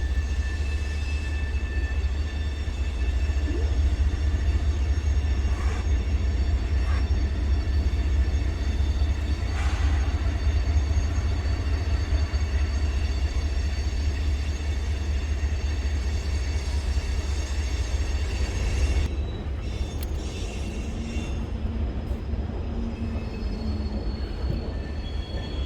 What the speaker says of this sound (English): Coming out of Enola with 10Z's train is HO08,